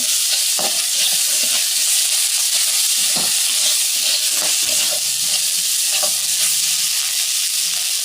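Spice masala is sautéed in a pan before bottle gourd and green chilies go in, producing a loud, continuous frying sizzle with intermittent spatula scrapes and stirring knocks, with no talking.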